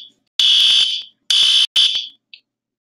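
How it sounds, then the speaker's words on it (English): A fire alarm blares in three loud electronic bursts with short gaps, then a brief faint blip, close and alone. "Yes, I did pull the fire alarm."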